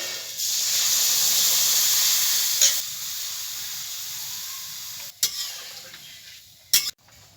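Water poured into a pan of frying potatoes with slit green chillies sets off a loud, steady hiss of sizzling and steam, easing off midway, with a few sharp clatters of stirring near the end.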